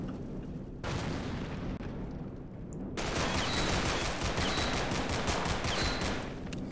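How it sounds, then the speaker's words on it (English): Dense, continuous gunfire in Half-Life, loud and sustained throughout, with rapid overlapping shots that thicken into a heavier barrage after a brief lull partway through. "Who is shooting at me?"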